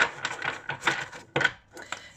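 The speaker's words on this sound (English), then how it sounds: "I've already given these cards a good shuffle" Quick papery riffles and soft flicks of tarot cards being shuffled, in several short bursts with brief pauses between them.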